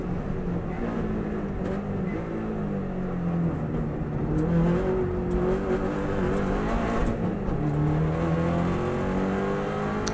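A 2014 Subaru WRX STI drops down through the gears and pulls hard on the Isle of Man TT road course. The engine note falls and rises as the revs build, loud and close inside the car, with no talk over it.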